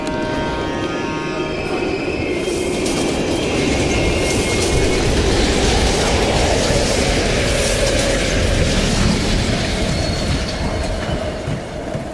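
A train in the Call of Duty Black Ops Cold War campaign rolls past an abandoned station, a loud continuous rumble of wheels and rail clatter with metallic squeal, steady throughout with no voices.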